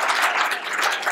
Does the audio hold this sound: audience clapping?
yes